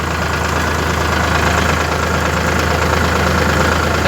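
A tractor engine runs close by in a farm field, a loud, steady, low rumbling drone that stays constant throughout with no voices.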